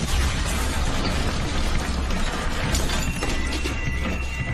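An explosion at the World Trade Center: a loud, continuous roaring crash with shattering and breaking noise filling the whole stretch, no voices.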